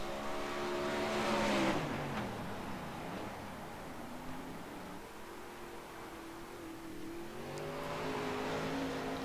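A wingless 360 sprint car engine on a dirt track in iRacing roars loudly and alone, revving high, easing into a lower drone mid-lap, then climbing again as it accelerates.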